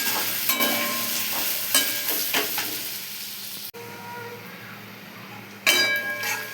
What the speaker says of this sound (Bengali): পেঁয়াজ আর রসুনটাকে ভালো করে নাড়াচাড়া করে নিতে হবে